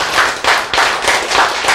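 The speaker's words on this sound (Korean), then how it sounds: "박수! 여러분." Brief applause from an audience at a lecture, a few seconds of steady, loud clapping with rhythmic bursts and no speech over it.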